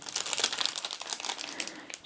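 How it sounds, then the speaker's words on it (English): Small plastic party bags being crinkled and handled up close, a soft continuous rustle with brief crisp bursts, alone with no talking. "just have some leftover little party bags, plastic bags"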